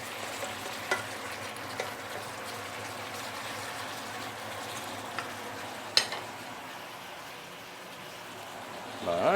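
Ginger duck sizzles in a pan with dark soy sauce as it is stirred, a steady soft frying hiss with occasional scrape and clink of the utensil, and a voice talks at times.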